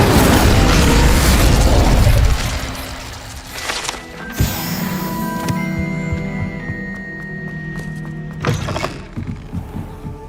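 Incendio fire spell cast in the video game Hogwarts Legacy, a loud whooshing roar of flame that fades into a humming, ringing magical tail with a few thuds and soft tones.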